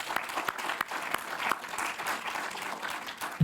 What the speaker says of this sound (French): Vous pouvez vous applaudir, c'est grâce à vous